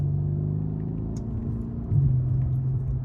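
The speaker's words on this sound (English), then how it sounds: "Now, let's give it a little bit of gas." A Mercedes W205 C63s AMG engine drones at a low, steady pitch, then its note rises a step under light throttle as the car begins to pull, heard from inside the cabin with no talking.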